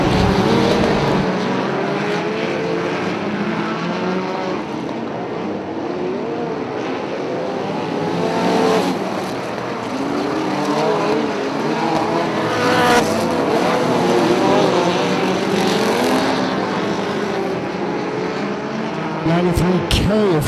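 Race cars circle a track at a feature race, engines swelling and fading as they pass in waves, some loud near passes, under a continuous announcer's voice.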